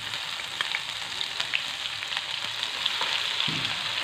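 Asafoetida, ginger and garlic fry in oil for a bitter gourd dish, making a close, steady sizzle with small pops and crackles and a brief stir-like scrape near the end; no one talks.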